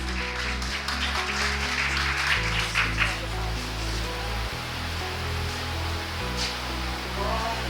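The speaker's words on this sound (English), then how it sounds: "Give him a huge round of applause." An audience applauds a performer at a youth skills day event, a steady wash of clapping heard over sustained, loud background music.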